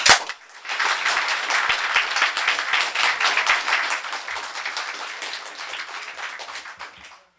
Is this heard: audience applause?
yes